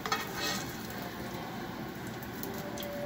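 Schupfnudeln fry in hot oil in a pan, giving a steady close sizzle and crackle that runs evenly through the whole stretch with no voices over it.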